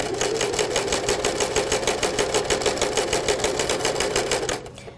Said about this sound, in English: And I'm going to sew all the way across.